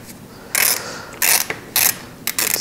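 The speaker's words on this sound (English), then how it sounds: "finalize the positioning of everything and tighten the bolt" A ratchet wrench tightening a clamp bolt on a rebar-capped tube for an outdoor Christmas light arch, heard as four loud close bursts of rapid clicking separated by short pauses.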